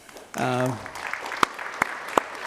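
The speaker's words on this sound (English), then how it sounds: "So give yourself a round of applause." Brief applause from the audience at a workforce summit in Sacramento, a short burst that follows a spoken voice and thins into a few scattered claps.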